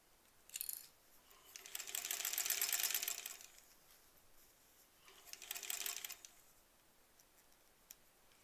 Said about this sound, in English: So we're sewing that shut.